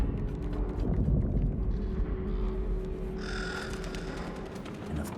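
Crows caw in the video game Little Nightmares 3: a few faint, harsh calls emerge in the second half over a low, rumbling ambient backdrop.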